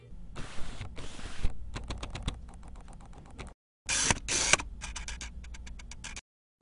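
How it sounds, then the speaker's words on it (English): Autofocus motors of Canon 50mm lenses, including an L series lens, heard from a microphone right beside them: bursts of rapid clicking, whirring and ticking, close and crisp, separated by short silent gaps. "We actually stuck a microphone right next to these lenses as we autofocus,"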